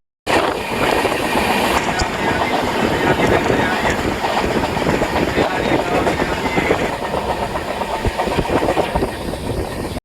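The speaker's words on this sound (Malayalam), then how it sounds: "അപ്പോൾ നമ്മുടെ ട്രെയിനിൻ്റെ സ്റ്റേഷനിൽ നിന്ന് എടുത്തിട്ടുണ്ട്." Sampark Kranti Express running on rails between Ernakulam and Madgaon, a continuous loud rumble and clatter of train wheels and carriages heard from on board, steady throughout.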